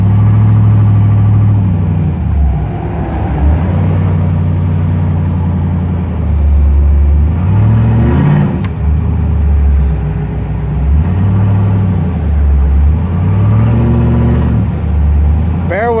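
LS-swapped third-generation Chevrolet Camaro driving on the road, its V8 loud and close with a steady rumble that rises and falls through repeated revs and gear changes. Someone talks over the engine.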